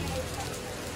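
Steady rain falls through a Ganesh immersion procession gathering where a family waits for a photo, a dense constant hiss filling the short moment without a break.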